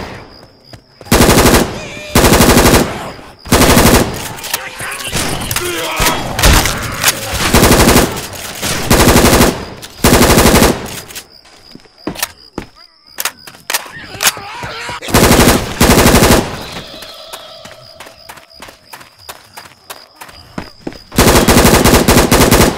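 Rapid automatic HK416 rifle fire in Left 4 Dead 2 gameplay, loud close bursts of sustained shots broken by short pauses, with a brief voice line at one point.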